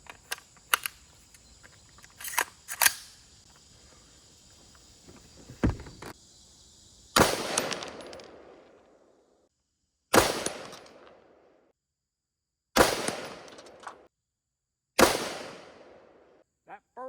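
Four loud rifle shots at a 50-yard target, each a sharp crack followed by a decaying rumble, spaced about three seconds apart after some earlier faint clicks and handling noises.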